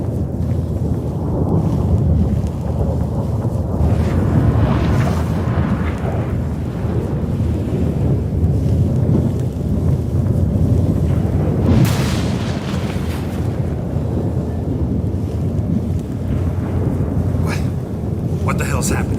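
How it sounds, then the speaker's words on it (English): A video-game thunderstorm rumbles with sustained low booms and rolling thunder, a louder crack near the middle, under occasional talk from characters. "That a storm?"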